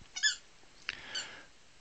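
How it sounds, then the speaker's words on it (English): Rubber squeaky toys squeezed a few times, giving short bright squeaks in two or three separate bursts, close and fairly loud, with no talking. "Squeak your toys."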